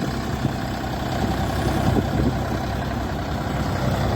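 A Dongfeng 244 Lux tractor on wide 11.2-24 tires idles steadily, a constant low diesel rumble held at the same level throughout, close by with no talking.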